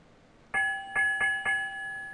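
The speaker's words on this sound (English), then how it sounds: "It was a ship's bell. Ring the bell." A ship's bell in the Broken Sword video game museum rings four times, the first pair spaced slightly apart and the last two close together, each stroke clear and metallic with a sustained ringing tone.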